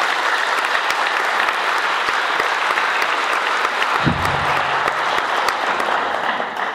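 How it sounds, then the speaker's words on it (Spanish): A large audience at a talk on voting by conscience breaks into loud, sustained applause to welcome a speaker. Dense clapping fills the room without a break, and a brief low thump comes partway through. "Recibamos con un fuerte aplauso al padre Carlos Novoa."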